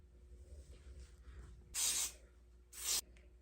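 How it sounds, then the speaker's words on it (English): Two short bursts of melting spray hiss close by onto wig lace, the first longer than the second, with quiet rustling in between. "I'm probably just gonna go ahead and go in with the melting spray"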